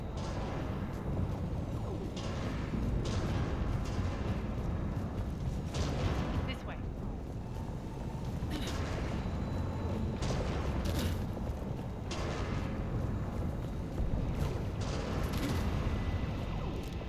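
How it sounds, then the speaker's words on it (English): Heavy cannons firing in Mass Effect 3 Legendary Edition, repeated booming blasts over a constant rumbling battle din, with someone talking over the action. "Those cannons have to be stopped."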